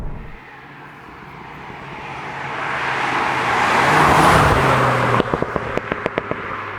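A 2016 VW Golf GTI Clubsport S accelerates past, its engine note swelling louder and nearer, then a quick series of sharp exhaust crackles and pops as it backs off.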